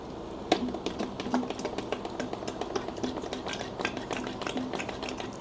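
A small hand pump pushes car-wash solution into a two-system foam sprayer tank, making a quick series of light rhythmic clicking and squeaking strokes, close and fairly quiet.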